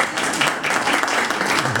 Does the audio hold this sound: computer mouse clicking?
no